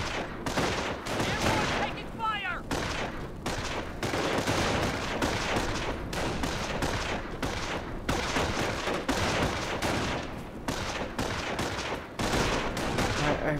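Gunfire in the World War II strategy game Company of Heroes, dense bursts of rifle and machine-gun fire rattling continuously with heavy impacts, loud and close, while a voice briefly calls out over the battle.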